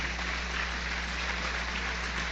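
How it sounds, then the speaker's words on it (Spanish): Church congregation applauding, a steady wash of even, distant-sounding clapping with no individual claps standing out, over a low constant hum. "Denle un aplauso y la gloria es de Dios."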